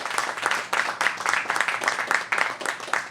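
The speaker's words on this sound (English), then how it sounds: "We can give her a round of applause." An audience claps steadily at an outdoor ribbon cutting ceremony, a dense run of hand claps that goes on for a few seconds with no talking over it.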